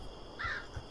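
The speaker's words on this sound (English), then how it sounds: "The birds just went off, and also there's rumbling." A bird calls out in the video game Sign of Silence, one brief, fairly faint caw-like cry over a quiet background.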